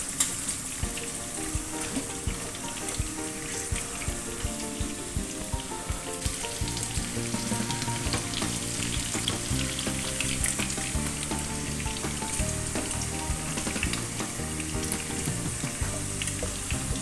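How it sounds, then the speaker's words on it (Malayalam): Dried red chilies fry in hot coconut oil for a beef dry fry, giving a continuous close sizzle with faint watery crackle and soft background music underneath. "ആ വെളിച്ചെണ്ണ ചൂടാകുമ്പോഴത്തേക്ക് കുറച്ച് മുളക് അതിലേക്ക് ഇട്ട് കൊടുക്കുന്നുണ്ട്"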